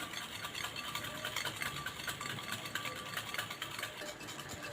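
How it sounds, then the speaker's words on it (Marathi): Yogurt and sugar whisked together in a bowl, heard as a steady, rapid, continuous rhythmic scraping and slapping close by, with no speech. "आता हे चांगलं मिक्स करायचं आहे फेटून घ्यायचं आहे आपल्याला हे दही आणि साखर दोन चार मिनिट चांगलं याला फेटून घेऊया"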